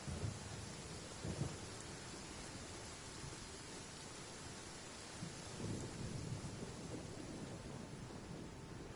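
A thunderstorm with lightning in the Genshin Impact video game: steady heavy rain hiss with low rumbling thunder swelling at a few points, continuous and fairly even throughout.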